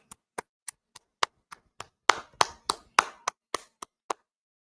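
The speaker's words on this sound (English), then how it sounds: "All right, everybody clap it up." Rhythmic clapping at a law class gathering, evenly spaced sharp claps that briefly thicken as a few more hands join in the middle, then thin back to single claps.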